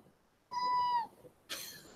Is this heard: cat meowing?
yes